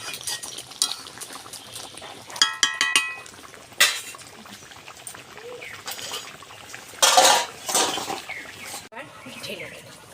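A cooked dish seasoned with kasuri methi is poured out of a metal pan, heard as a few sharp spoon-on-pan clanks and scrapes with soft sliding food between them, close by and intermittent.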